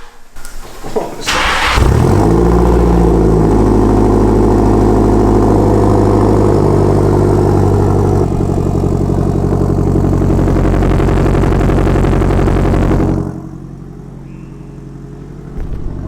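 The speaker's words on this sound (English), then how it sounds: "Like you can really hear the turbo spool." An SR20DET engine cranks and starts, then a loud exhaust drone with audible turbo spool holds steady for several seconds before dropping to a quieter idle.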